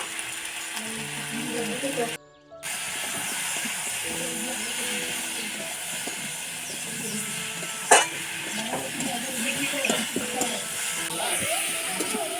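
Potatoes and tomato frying in a pan with turmeric, chilli powder and salt for a Murshidabad-style sour dish, a steady sizzle with scraping stirs and clinks, a brief gap early on, and speech now and then.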